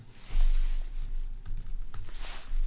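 Rapid typing on a computer keyboard, a steady run of close clicking keystrokes with no speech.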